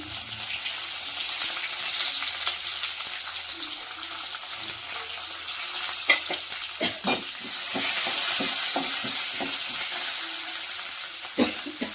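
Green chilies and curry leaves frying in hot oil for a yogurt curry, giving a steady close sizzle with scattered stirring clatter and a few sharp utensil knocks toward the end.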